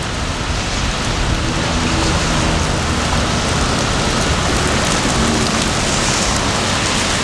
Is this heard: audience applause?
no